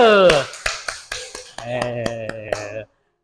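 A classroom group clapping hands before a presentation: sharp, evenly spaced claps in a steady rhythm, with voices and a tonal chant running over them near the start and again later.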